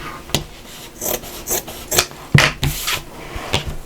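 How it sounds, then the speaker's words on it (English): Material is trimmed back while sewing a storage system, heard as a series of short, close, rasping scrapes and rubs in an irregular rhythm, with no talking. "So I'm just going to trim that back a little bit."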